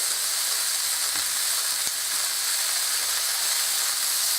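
Slices of scrapple frying in a hot pan on a stove at medium heat, a loud, dense, unbroken sizzle with faint crackles and pops throughout, close up and with no talking.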